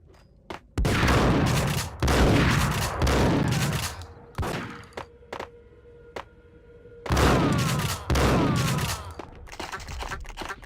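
Intense gunfire from the video game Max Payne, repeated bursts of rapid automatic shots and single heavy reports with echoing tails, loud and close, spread across the whole stretch with brief gaps between volleys.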